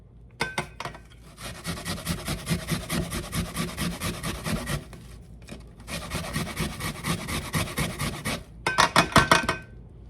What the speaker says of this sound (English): I'm just going to use the little side of the grater and put some onion in there.